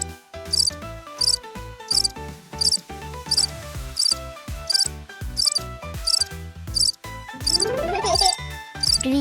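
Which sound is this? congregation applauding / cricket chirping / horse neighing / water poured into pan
cricket chirping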